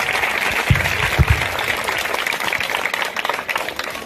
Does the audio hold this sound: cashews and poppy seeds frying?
no